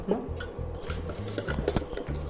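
Masala corn stirred with soy sauce in a pan: a quick series of spoon scrapes and clinks against metal over soft sizzling, close up, with no talking.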